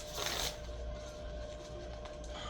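A deck of tarot-style cards is shuffled in a brief riffling burst, then a soft fluttering rustle continues quietly, close by, without speech.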